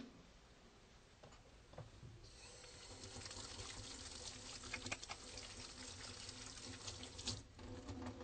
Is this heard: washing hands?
yes